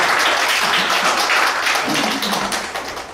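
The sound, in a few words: audience applause at poetry recitation contest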